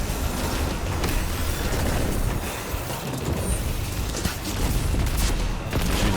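Rocket launcher fire and explosions during a Grandmaster Nightfall boss fight in Destiny, a dense, continuous barrage of booming blasts and gunfire filling the whole stretch at steady loudness.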